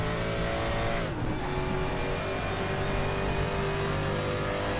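A 1992 Mustang DTM race car engine in the RaceRoom racing game at the Nürburgring GP circuit: a loud, continuous, raspy roar at high revs, with a brief dip and shift around the first second as the pitch changes.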